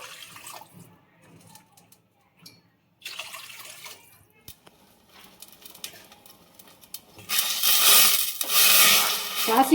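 Water is poured into a pot while cooking carrot payasam, with quiet handling and rubbing noises first, then a loud, steady rushing pour near the end.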